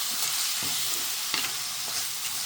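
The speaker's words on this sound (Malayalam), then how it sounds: "ഇനി ഇതൊന്ന് ഒന്ന് വെന്ത് വരണം അതുപോലെ തന്നെ ഒന്ന് നല്ലതുപോലെ ഒന്ന് വഴറ്റിയും എടുക്കാം" Frozen cauliflower rice sautés in a pan with a dense, constant close-up sizzle, punctuated by a few soft scraping stirs of a spoon through the grains.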